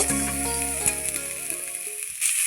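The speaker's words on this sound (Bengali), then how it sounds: "হালকা করে ভেজে নিচ্ছে খুব একটা লাল করে ভাজতে হবে না" Chopped onion sizzling gently in hot oil, a steady close frying hiss with faint stirring clicks and no talk.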